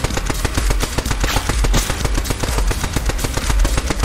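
Rapid automatic gunfire from a held weapon in a video game, a dense, steady stream of shots that keeps up its fast, driving rhythm and fills the whole stretch at close, loud level.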